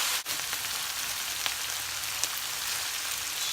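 Green beans sizzling in a hot pan for a holiday dish: a steady, close, even frying hiss with a few faint clicks and stirring touches, no voices.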